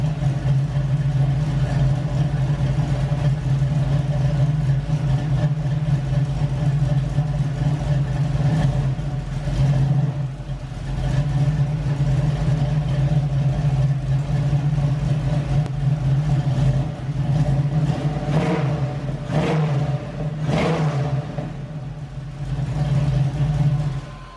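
An LS-swapped Camaro with a lumpy cam runs steadily for over twenty seconds, a strong low drone close by, broken by a brief dip and a few sharp revs near the end.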